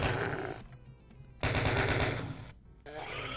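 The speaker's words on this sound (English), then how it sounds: "Let's get back to the chainy gun." A chaingun fires in the video game Doom 2: loud, rapid automatic bursts broken by two short gaps, close and dominant throughout.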